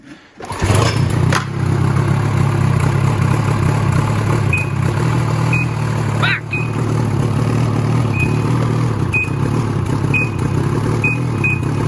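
Short high electronic beeps chirp at irregular intervals over the loud, steady idle of a Ski-Doo 800 E-TEC snowmobile engine that bogs off idle, with a brief rev partway through.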